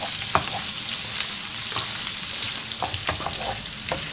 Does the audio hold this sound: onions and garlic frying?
yes